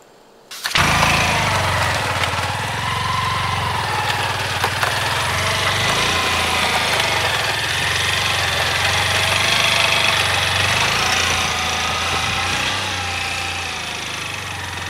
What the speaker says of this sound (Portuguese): é um trator vindo